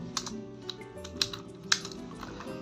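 Someone types JavaScript code on a computer keyboard, giving quick, uneven keystrokes with a few sharper clacks, close and clear, with no voice.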